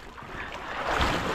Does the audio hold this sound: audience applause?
no